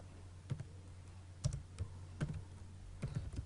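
Typing a paragraph on a computer keyboard, quiet close clicks of keys in small uneven bursts over a low steady hum, with no talking.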